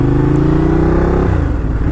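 A Ducati Diavel cruiser motorcycle engine runs close by with a steady, loud, throaty tone, then drops in pitch after about a second as the revs fall away, with no talking.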